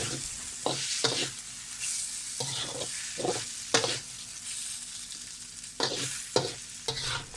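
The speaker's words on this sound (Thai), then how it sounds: "ไม่ต้องผัดให้ข้าวเม็ดบานหรือว่าเป็นสีขาว แค่คลุกให้เข้ากันก็พอ" Rice is stir-fried in a pan over low heat for Thai chicken rice. A soft, continuous sizzle is broken by repeated sharp scrapes and stirring strokes at an uneven rhythm, close and with no talk.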